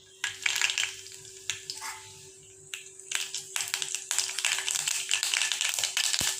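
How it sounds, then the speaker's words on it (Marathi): Mustard seeds pop and crackle in a little hot oil in a kadhai for kadhi, a dense, close spatter of sharp bursts that briefly dies down and then builds back into continuous sizzling. "राई तडतडली की"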